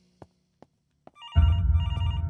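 A telephone in the horror game Infliction begins ringing after a few quiet clicks, its bright electronic bell trilling loudly in repeated bursts.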